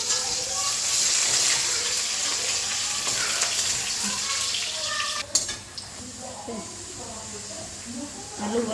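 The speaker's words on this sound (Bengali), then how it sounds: "আলু অল্প ভাজা ভাজা হয়ে গেছে" Potatoes fry in hot oil seasoned with fenugreek seeds, a steady close sizzle with occasional stirring clatter and a brief utensil knock midway.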